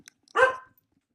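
A single short dog bark, close and moderately loud, standing alone in an otherwise quiet room.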